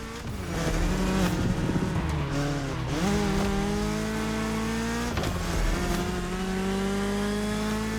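A BMW E30 M3 race car in the video game The Crew Motorfest drives hard and close, its engine note holding and climbing through gear changes, with light tyre squeal and no talk.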